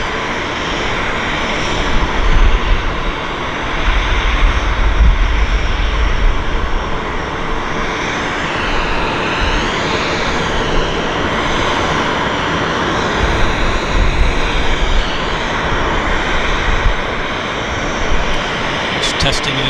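Aircraft engines roaring during a departure at Vancouver Airport, a loud, sustained broadband rumble with slowly shifting tone as the plane rolls out, while a voice talks over it throughout.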